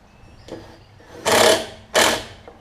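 A 3/8-inch ratchet runs a carburetor bolt into a Craftsman Briggs push mower, heard as two loud, close bursts of rapid clicking about a second each, with quieter handling noises before them.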